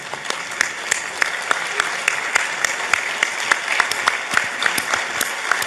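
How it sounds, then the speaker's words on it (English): Sustained standing ovation from a large audience at a Ghanaian political gathering, dense steady clapping with sharp individual claps popping out, loud and continuous throughout with some crowd voices mixed in. "I therefore invite all of us to give him a standing ovation"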